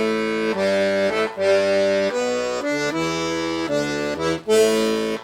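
A piano accordion plays the opening six measures of an eight-measure rock and roll zydeco accompaniment pattern, with pulsing bass-and-chord phrases separated by brief breaks, loud, close and unaccompanied.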